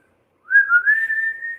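A person whistles a short rising tune imitating a Western movie theme, clear and alone with no talk.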